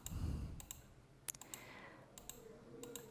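Faint computer clicks from a space bar and mouse in GIMP, a few sharp isolated taps scattered over a quiet background hum, with no talking.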